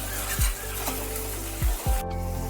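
Garlic paste and ginger paste frying in a pan with a low sizzle, a few brief scraping strokes of the spoon as the paste is stirred, close and quiet, no talking.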